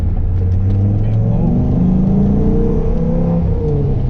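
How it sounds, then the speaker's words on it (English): A 1997 Dodge Viper RT10's V10 engine runs with a steady, deep, throaty rumble, close by and loud, its pitch rising and falling slightly as it revs. "That V10 really sounds good"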